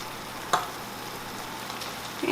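Meat fries in a pan with sunchokes and vegetables, a steady sizzle with a sharp scrape of stirring near the start and a light clatter at the end.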